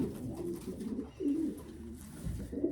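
Racing pigeons coo in low, rolling, repeated phrases close by, with no talk over them.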